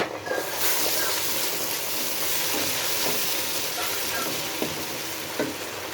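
Ginger and garlic paste frying in a pan for a biryani, a loud, steady close sizzle and hiss running the whole time with faint stirring scrapes, no speech.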